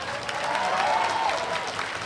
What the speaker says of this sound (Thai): อีกหลายสิบคนปรบมือดังๆให้เพื่อนเราในเรือนจำเลยครับ